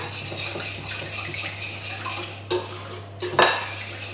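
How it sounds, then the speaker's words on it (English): An egg being stirred into doughnut batter in a bowl: soft scraping and mixing with a few sharp clinks of utensil against the bowl near the end, close and fairly quiet. "And then I'm going to add in my egg. So mix that in together."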